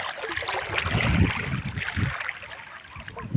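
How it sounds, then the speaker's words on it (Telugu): Floodwater from a swollen stream surges over a village main road after heavy rains, a continuous, dense rushing roar heard up close. "పెద్దవాగు మూలవాగు చూడండి ఎంత పెద్ద వచ్చిందో నిన్న మొన్న కురిసిన వర్షానికి"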